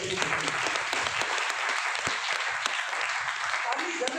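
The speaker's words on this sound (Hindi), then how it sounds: "तो एक बार ताली लगा के बताइए।" A crowd at a motivational seminar claps steadily, a dense continuous roar of applause lasting several seconds with faint voices mixed in.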